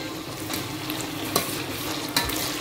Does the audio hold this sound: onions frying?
yes